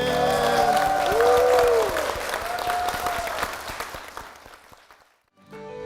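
Church congregation at Songcheon Church applauds in worship, a steady burst of clapping with some cheering, tapering off before a brief pause and music.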